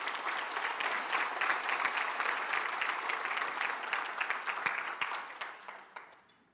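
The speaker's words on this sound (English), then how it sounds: "join me in giving these 2 organizations a round of applause" An audience at Brownsville's state of the city address gives a round of applause, a steady wash of many hands clapping for several seconds before quickly thinning out and fading to quiet.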